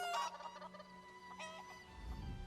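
Chickens in The Elder Scrolls Online, High Isle DLC, cluck and squawk in a few short bursts, moderately close, with a low rumble rising toward the end and no voices.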